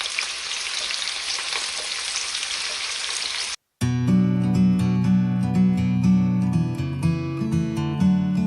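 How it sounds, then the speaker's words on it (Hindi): Kofta meatballs frying in a pan of hot oil give a steady, dense sizzle for about three and a half seconds. After a brief silence, music takes over. "तो कोफ्ते ऑयल में फ्राई हो रहे हैं"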